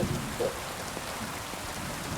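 Steady rain in the medieval open-world game Kingdom Come: Deliverance 2, a constant dense hiss of falling drops with no breaks or talk, fairly loud and enveloping.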